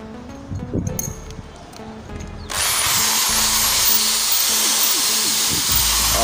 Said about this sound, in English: to fix your pool on concrete, you need a concrete drilling machine